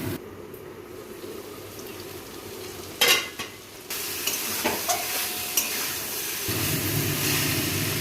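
Bottle gourd stems sautéing in a covered pan, with a steady low sizzle and occasional stirring scrapes and clinks.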